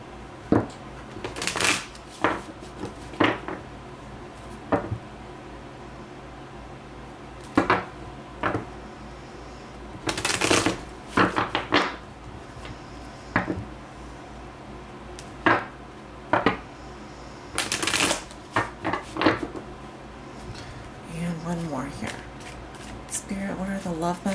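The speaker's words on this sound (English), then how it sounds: "Do a couple more shuffles here." Tarot cards are shuffled in short, scattered bursts of riffling and snapping, with a person talking quietly in between.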